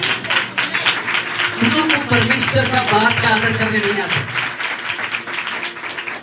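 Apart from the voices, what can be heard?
congregation clapping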